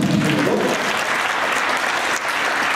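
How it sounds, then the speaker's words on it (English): Audience applause for Dennis fills a conference room at a future leaders forum. Dense, loud clapping runs throughout, with no voices over it. "Let's give Dennis a round of applause."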